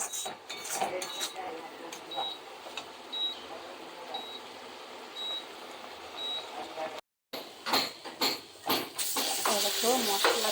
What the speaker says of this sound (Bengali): মশলাটা ভাজা হয়।